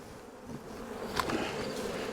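Honey bees buzz steadily around a hive being winterized, a continuous close droning hum that carries the whole time with no speech.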